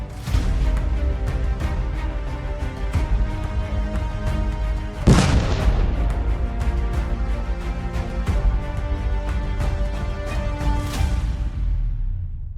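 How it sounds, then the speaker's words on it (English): A single sharp blast from an FPV drone bomb dropped into a small hidden hole in a war zone bursts out midway, set against loud, continuous background music. "A direct drone hit took out a soldier trying to hide in a small, hidden hole."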